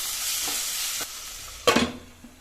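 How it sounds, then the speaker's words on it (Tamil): Chopped tomato added to onion frying in a pan: a steady close sizzle with a few light spoon taps, then a sharp burst of hissing and clatter as the pieces go in, fading back to a gentle fry. "கட் பண்ணி வச்சுருக்க தக்காளி போட்டுக்கிறேன்"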